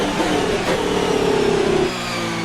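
Racing car engine in a racing video game on the Vietnam circuit, revving hard and steadily climbing in pitch, loud and continuous, then easing off near the end.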